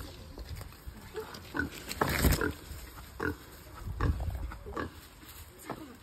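Pig grunting and squealing in a few short bursts, close by, with people's voices faint in the background amid outdoor noise.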